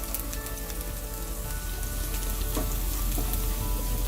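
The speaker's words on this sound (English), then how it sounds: "So I start with a wok with a little oil heating. To it I add the ginger garlic diced." Diced ginger and garlic sizzling in a little hot oil in a wok, with a steady, loud, dense crackle and a few sharper pops on top, and no voices.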